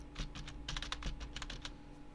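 Fast, light clatter of keys on a computer keyboard, a close, quiet run of irregular taps lasting a couple of seconds over faint background hum.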